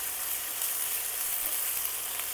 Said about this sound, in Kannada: ಸೊ ಇದು ಫ್ರೈ ಆಗ್ತಿದ್ದಂಗೆ ತೇಜು ಅವ್ರದ್ದು ಜಿಂಜರ್ ಗಾರ್ಲಿಕ್ ಪೇಸ್ಟ್ ಹಾಕ್ತಾ ಇದ್ದೀನಿ.